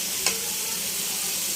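Chicken curry with onion, green chilies and salt is stir-fried in a pan, giving a short, steady sizzle with a single soft scrape near the start and no speech.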